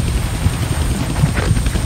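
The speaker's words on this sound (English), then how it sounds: "I can't kill that chopper with my guns," A helicopter in the Deadpool video game on PC, its rotors giving a loud, continuous throbbing drone with a rhythmic chop throughout, and no talk over it.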